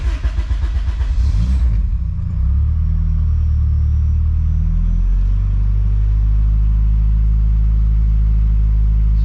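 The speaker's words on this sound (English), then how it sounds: "We're gonna start the vehicle right now." Honda Civic EM1 fitted with a Walbro fuel pump cranks and fires up, a brief stuttering crank giving way to a loud, steady low idle rumble that holds close and alone.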